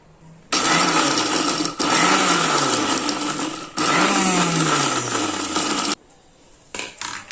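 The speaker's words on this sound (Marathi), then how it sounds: "आता चालू बंद असं करत बारीक करून घ्यायचंय।" A mixer grinder whirs loudly in three short bursts, its motor pitch dropping as each pulse stops, separated by brief pauses and a final clatter.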